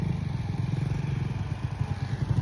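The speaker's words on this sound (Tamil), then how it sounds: "இங்க பாருங்க, பைக்ல தான் போயிட்டு இருக்கோம்" A motorcycle engine chugs steadily with a rapid, rough pulsing rhythm, close and continuous as the bike rides along near Udayagiri Fort in Kanyakumari.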